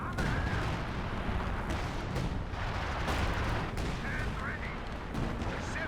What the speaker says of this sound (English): Artillery coming in on the Brits